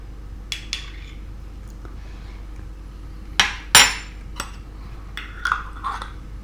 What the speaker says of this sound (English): I'm only going to use a small spoon because I don't think my big spoon will actually fit in there.